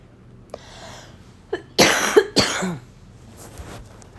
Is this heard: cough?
yes